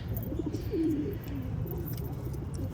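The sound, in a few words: pigeon cooing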